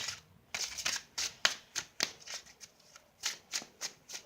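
Tarot cards shuffled by hand in a series of quick, crisp riffles and slaps, about a dozen bursts in irregular rhythm, close and fairly quiet, with no talk.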